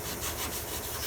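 Someone scuffs down the body surface of a Fox Body race car with quick rough rubbing strokes. The sound is close and continuous, with a raspy, sanding-like texture over one brief burst.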